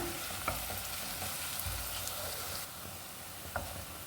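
Ginger garlic paste and onions sautéing in hot oil for chicken biryani give a steady, moderately loud sizzle throughout, with faint stirring clinks now and then and the frying dropping slightly softer toward the end.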